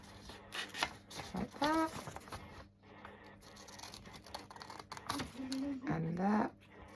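Scissors cut fabric along the darts of a tailor's ham pattern, a few close, soft scratchy snips and rustles, with someone talking briefly between cuts.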